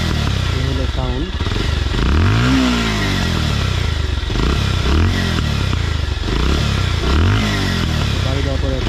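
Modified Bajaj Pulsar motorcycle exhaust revving hard, several loud rising throttle blips that swoop up and fall back in a repeating rhythm over a constant close engine rumble, with a voice talking underneath.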